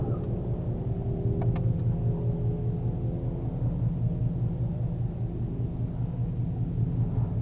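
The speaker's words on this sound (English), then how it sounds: "Oh no, one wheel peel." A car rumbles steadily at a drag strip, the engine a low continuous drone throughout, recorded from a distance with no clear launch burst; a Mustang GT or Camaro SS V8 at a stock-versus-stock race.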